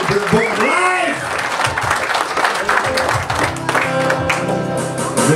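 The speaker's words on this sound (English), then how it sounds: "Come on, somebody give a clap offering to the Lord." A church camp congregation breaks into clapping and applause, a dense steady patter of many hands close by, with a preacher's voice talking over it throughout.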